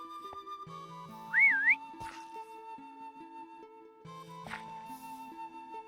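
A short, wavering whistle rises briefly over quiet, steady tonal background sounds.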